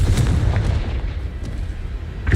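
A Confringo spell explosion in Hogwarts Legacy booms and rumbles heavily, a loud, dense low blast that rolls on through the whole moment with scattered crackles.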